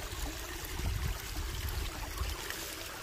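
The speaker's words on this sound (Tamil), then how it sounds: "தண்ணி மலையிலேருந்து வழிஞ்சு வர தண்ணி போயிட்டுருக்கு பாருங்க." Water from a stream trickling down a hillside on a trek, a steady close babbling flow with low rumbling, no voices over it.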